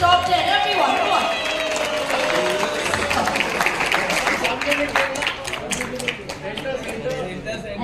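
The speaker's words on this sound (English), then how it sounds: "Huge round of applause for Oppo and the top 10." A crowd claps and cheers throughout at an Oppo phone unboxing event held in flight. The applause is steady and dense and carries under a host's loud voice.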